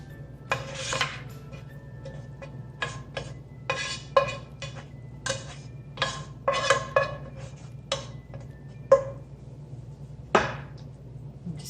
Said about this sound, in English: So we're just going to drop this down at the bottom of the dish.